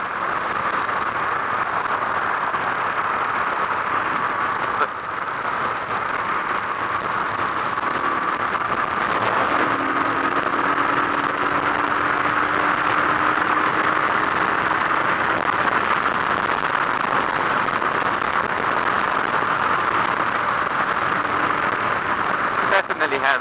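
A 2017 Harley-Davidson Street Rod motorcycle engine hums steadily while riding through Los Angeles, a continuous mid-pitched drone with wind rush and a brief rising whine of passing traffic.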